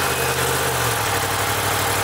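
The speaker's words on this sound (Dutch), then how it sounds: "Dus dit is het geluid van de motor." New motorcycle engine idling just after starting, a steady low rumbling drone with an even pulsing throb, close and moderately loud with no talk over it.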